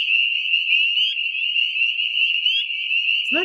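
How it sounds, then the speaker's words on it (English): A dense chorus of spring peeper frogs calling at a pond, a loud, unbroken high-pitched peeping that sounds steadily from near and far, with a brief low voice right at the end. "They're called spring peepers because they make a sound like a peeper."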